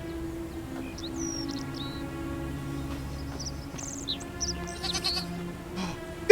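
Goats bleating on a farm in the video game The Forgotten City. Several short, wavering calls sound over a quiet, steady hum, with faint chirps mixed in.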